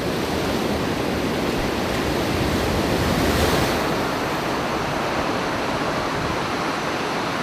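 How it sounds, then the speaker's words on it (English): Gentle ocean waves spill onto a moderately sloped seabed in a steady, broad wash of surf that stays loud and even throughout, with a slight swell in the middle and no voices. "a very gentle slope produces waves that spill gently"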